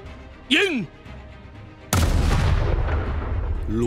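Artillery fire in an animated film about the 1932 Siamese revolution: a short descending whistle, then a sudden loud cannon blast that rolls into a sustained, heavy rumble.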